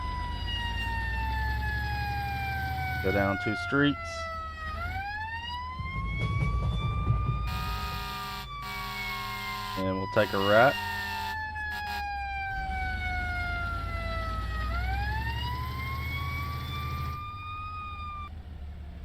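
Emergency vehicle sirens in the firefighting game Into The Flames wail in long rising and falling sweeps throughout, steady and prominent, with brief bursts of other game sounds and someone speaking briefly over them.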